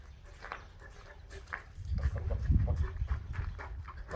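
A strong male dog makes low, rough grunting and growling sounds close to the microphone, swelling louder midway and continuing steadily.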